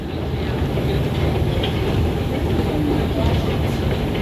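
Subway train at a Toronto station platform, a steady broadband rumble and rattle of the moving train with faint scattered voices in the background, continuous and fairly loud throughout.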